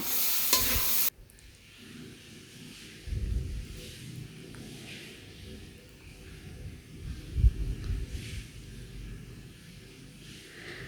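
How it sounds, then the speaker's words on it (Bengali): Soaked, drained sago pearls are stirred in a pan for a Bengali fasting-day sabudana pulao, giving soft scraping and a low sizzle, with a few louder stirring strokes and no talking. "ভালো করে নেড়ে চেড়ে দিচ্ছি।"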